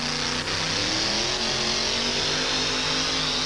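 A fuel-injected big block Chevrolet pulling truck roars at full throttle during a 1987 truck-pull event, a loud, sustained engine drone with steady harmonic tones and no talk over it.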